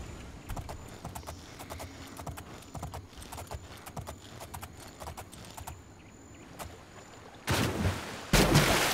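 Horse hooves clip-clop steadily in Oblivion, a regular trotting rhythm of close, moderately loud hoofbeats that runs for several seconds before giving way to two bursts of louder broadband noise at the end.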